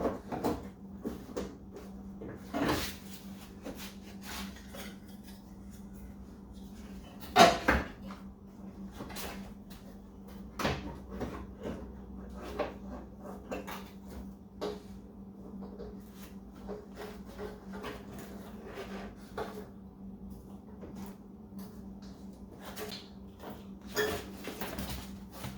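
A Saab 9-3 fender is worked loose from its mounting points, giving scattered scraping, rubbing and knocking bursts spread over a steady low hum, with one sharper thud near the middle.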